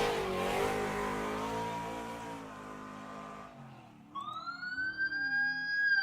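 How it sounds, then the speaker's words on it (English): A race car engine at a speedway roars and then winds down, followed by a rising, wailing whine. "I hear the engine's already firing."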